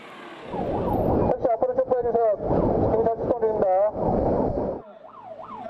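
A wailing emergency vehicle siren sweeps up and down in city traffic, mixed with a voice speaking over it and a radio loudspeaker warning, fairly close.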